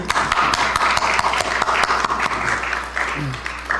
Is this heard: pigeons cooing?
no